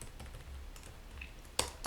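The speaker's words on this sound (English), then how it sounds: "Why can't I type to save my life here?" A computer keyboard is typed on quietly in a few scattered keystrokes, close but soft, with one sharper key tap near the end.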